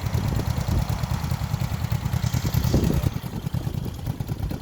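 A 1975 Honda CB360T, a small vintage motorcycle, idles steadily close by, its low, even engine thrum continuing throughout with faint mechanical clatter.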